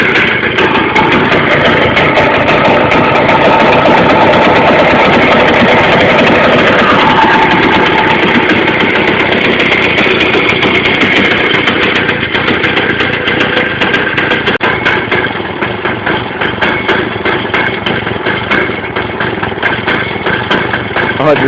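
A 160cc Victa lawnmower engine fitted to a go-kart idling steadily, a loud, close, continuous putter that shifts slightly in pitch partway through, with no talk.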